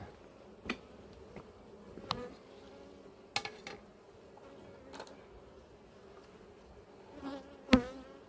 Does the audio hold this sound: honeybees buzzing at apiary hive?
yes